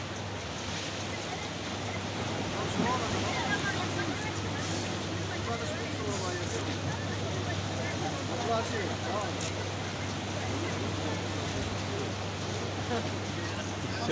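Sea waves wash along the Larache corniche at Bab al-Bahr as fishing boats head out, a steady roar of surf mixed with wind buffeting the microphone and a low constant hum.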